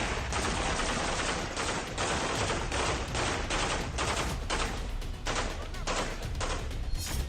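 Gunfire in street fighting in Mariupol: dense, sustained bursts of automatic and rapid shots fill the whole stretch at steady loudness, with no clear pauses between volleys.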